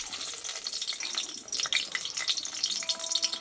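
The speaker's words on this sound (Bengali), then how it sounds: "দেখো এখানে কিন্তু তেলটা আমার গরম হয়ে গেছে এইবার দেখো এখানে বড় সাইজের আমি দুটো পেঁয়াজ নিয়েছি চার পিস করে নিয়েছি দিয়ে দেবো" Large onion pieces dropped into hot oil in a home kitchen for a Bengali chicken dish, giving a steady close sizzle and crackle with faint bubbling, no voice.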